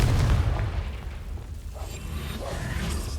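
Confringo fire spell blast in Hogwarts Legacy: a heavy, booming explosion at the start that trails off into a rumbling, whooshing decay with faint crackling over the following seconds.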